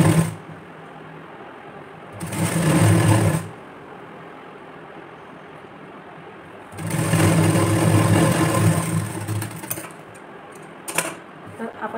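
Sewing machine stitching a strip on a blouse, two close whirring runs of rapid needle clatter, the second longer, separated by quiet pauses.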